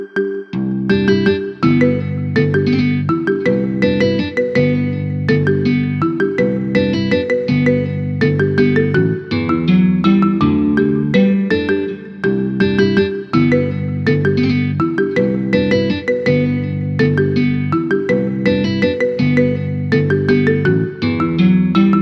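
A marimba remix of a pop song, played as a phone ringtone: bright mallet notes in a steady repeating pattern over a bass line, loud and continuous throughout with no talk.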